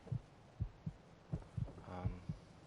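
A slow, steady heartbeat from the video game Fallout 4 thumps in regular double pulses, soft and muffled, with a brief low hum rising midway, and no speech.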